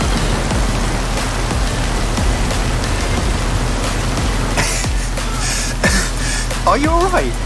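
Steady heavy rain hisses throughout in the video game Forza Horizon 5, with low rumbling underneath and a brief voice rising near the end.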